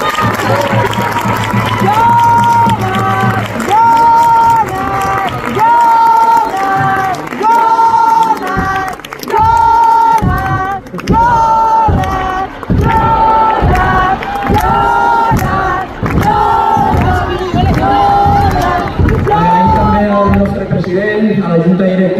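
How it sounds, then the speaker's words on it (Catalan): A large crowd claps and cheers loudly and without a break at a league title celebration for the 2023/2024 season. Rhythmic waves of applause and shouting fill the whole stretch, with no single voice standing out. "Un fuerte aplauso para todos ellos."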